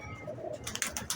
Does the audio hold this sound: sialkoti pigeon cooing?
yes